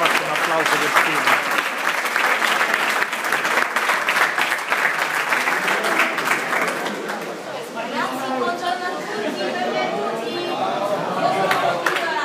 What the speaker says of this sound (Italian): Mi faccio un applauso per Steve.